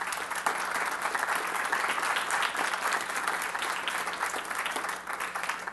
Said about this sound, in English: to give them all a round of applause.